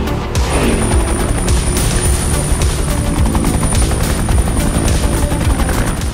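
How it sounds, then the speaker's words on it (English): Helicopter flying over a police car chase on a dangerous hill road in an animated cars cartoon, a loud steady rotor roar filling the scene alone. "We need choppers to rescue."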